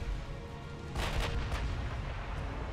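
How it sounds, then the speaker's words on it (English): Booming naval cannon fire in the warship game Ultimate Admiral Dreadnoughts as the ship Dunkirk comes under fire, a few heavy blasts over a steady rumbling background, moderately loud with no talking. "Dunkirk is now coming under fire from the Italians."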